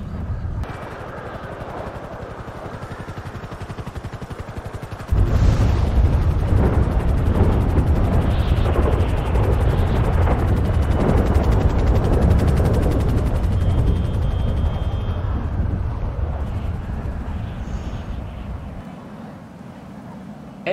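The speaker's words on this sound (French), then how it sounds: "l'hélicoptère vient d'arriver" A helicopter arrives in the zombie apocalypse mod of the video game GTA 5, with a loud, steady rotor and engine roar that swells in suddenly and stays dense for most of the scene before easing off near the end.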